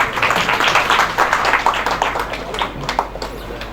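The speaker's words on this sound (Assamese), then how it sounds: "আপোনালোকে হাত চাপৰি এটা দিয়ক।" Audience at an Assamese public gathering or commemorative event clapping hands in applause, a dense, steady patter of many claps through the whole stretch, thinning slightly toward the end, with crowd murmur beneath.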